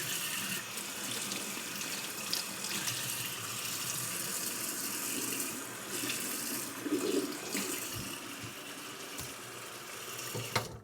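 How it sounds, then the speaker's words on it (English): Water pours and trickles steadily onto a fine 8K sharpening stone for honing, a continuous hissing splash up close, with a few small knocks near the end. "put a lot of water on this."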